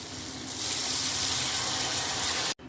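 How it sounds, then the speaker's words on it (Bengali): Hot water poured into a pot of Bengali fish curry makes a steady, close gushing pour that holds evenly, then stops abruptly near the end with a brief silence. "এরপর কি গরম জল দিচ্ছিস?"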